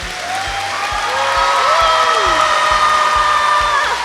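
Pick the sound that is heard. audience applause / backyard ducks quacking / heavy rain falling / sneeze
audience applause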